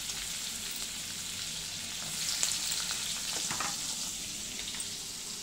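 Onions and curry leaves frying in hot oil in a pan, a steady close crackling sizzle with brief stirring scrapes partway through.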